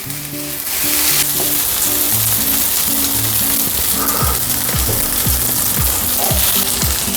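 Kimchi fried rice made with frozen rice fries loudly in a pan, a dense, constant sizzle that swells after the first second and holds steady like heavy rain, with no one talking.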